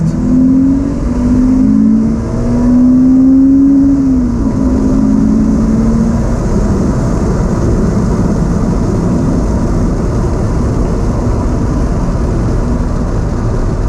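A car engine revs hard in second gear and then the throttle lifts. The pitch rises and falls for several seconds before settling into a loud, steady roar close by.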